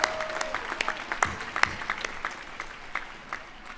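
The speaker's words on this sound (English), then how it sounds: "Please join me in giving them a big round of applause as well." Graduation ceremony audience applauds the faculty, a fairly distant, moderate wash of clapping with scattered sharper individual claps standing out, continuing throughout.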